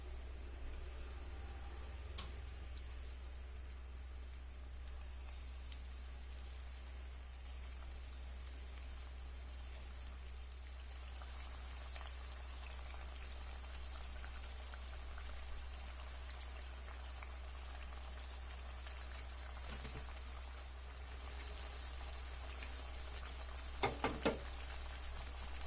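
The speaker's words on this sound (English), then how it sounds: "now I'm going to start frying the fish for 3-4 minutes" Salmon pieces fry in a pan of hot oil, giving a steady faint crackle and sizzle over a low hum, with a few sharper pops near the end.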